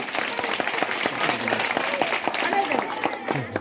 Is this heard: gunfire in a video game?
no